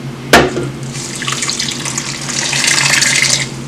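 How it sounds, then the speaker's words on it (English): Tap water pours into a crockpot of seasoned beans, opening with a sharp knock, then a steady running stream that swells louder toward the end, with no voices. "I'm going to add more water."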